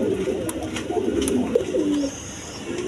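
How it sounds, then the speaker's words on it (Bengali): A pair of Danish pigeons, down shaver type with red three-bar markings, coo in low, throaty rolling phrases close by, repeating steadily through the moment with faint background noise and no one talking. "এইখানে এক পেয়ার ডাউন সেভার ডেনিশ কবুতর, 3 পট্টি লাল গিয়ার।"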